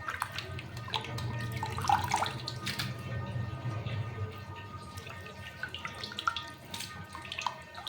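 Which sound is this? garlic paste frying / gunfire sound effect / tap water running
tap water running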